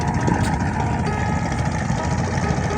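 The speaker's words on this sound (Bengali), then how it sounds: "এই হচ্ছে মাছ ধরা ট্রলারটা চলে যাচ্ছে তাদের গন্তব্যস্থলে" Engine of a fishing trawler on the Padma river at Manikganj pulling away, a steady low droning motor with a continuous throb, fairly close and alone without talk.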